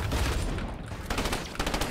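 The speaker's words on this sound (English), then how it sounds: "Oh, I'm getting shot." Gunfire in the Fortnite video game, rapid bursts of shots in loud, close, rhythmic volleys, with a short lull before the firing resumes.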